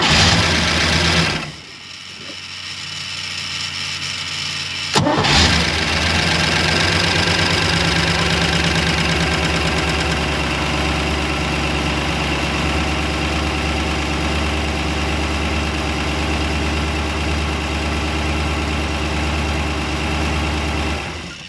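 A new 350 HP Chevy engine in a 1991 Malibu Competition ski tow boat fires up after a brief dip and settles into a loud, steady idle with a continuous low rumble and mechanical chatter, close by, no talking.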